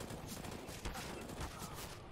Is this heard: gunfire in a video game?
yes